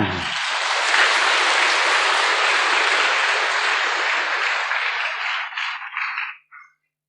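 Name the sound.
audience applause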